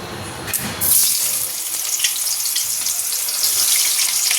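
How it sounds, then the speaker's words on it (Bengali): Boiled green jackfruit dropped into hot oil in a wok, a loud, steady sizzle that bursts up suddenly and keeps crackling close by without a pause. "কড়াই বসিয়ে দিয়েছি তেল, এখন এই সিদ্ধ করে রাখা এঁচড়গুলো ভেজে নেব।"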